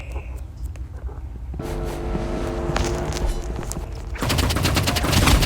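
Energy pistols firing in a video game, bursts of rapid shots with tonal zaps that build into a dense, loud barrage toward the end.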